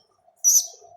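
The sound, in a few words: young pigeon calling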